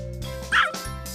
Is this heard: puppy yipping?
yes